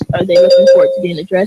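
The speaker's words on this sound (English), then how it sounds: "a bell will sound like this" A debate timing bell rings as a steady electronic tone for under a second, partly masked by someone talking over it.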